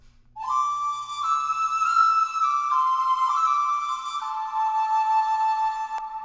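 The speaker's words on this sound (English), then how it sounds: "we start out with this penny whistle, which is a ethnic woodwind instrument" Penny whistle, an ethnic woodwind, playing a bright sustained melody in a film-style soundtrack, clear and alone with smooth held notes and gentle slides.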